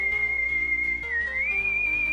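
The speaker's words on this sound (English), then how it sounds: "even a tune it was known to whistle" Proto Man's whistled tune from the Mega Man video game, a single clear sustained whistle that holds one pitch, dips, then rises and holds again over a soft low synth backdrop.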